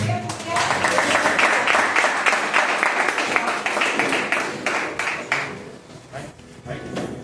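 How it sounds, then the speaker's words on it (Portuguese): Loud, sustained applause fills a midweek church service as the congregation claps in praise to the Lord, then thins out and fades near the end. "E as palmas que louvam ao Senhor."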